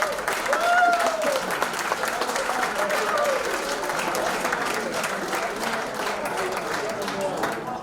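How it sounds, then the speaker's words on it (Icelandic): Audience at a Þorrablót midwinter feast gives sustained, dense applause that stays full and steady throughout, with a few faint voices and whistles mixed in. "gefið þeim gott klapp"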